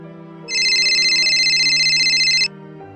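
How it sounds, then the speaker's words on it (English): A phone rings with a steady, high electronic tone lasting about two seconds, loud and close, then stops abruptly. "Right then, my phone starts ringing again."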